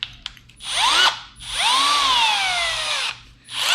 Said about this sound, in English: I'll drill a hole straight through the pipe